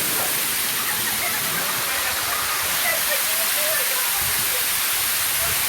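Loud, constant rush of cascading water in an artificial river at an aquapark in Sharm El Sheikh, filling the scene, with faint voices partly buried beneath it.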